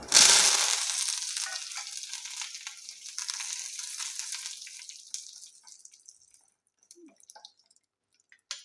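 Curry leaves and mustard seeds hit hot oil for sambar with a loud, bright crackling burst that gradually fades over several seconds into sparse pops, with no talking.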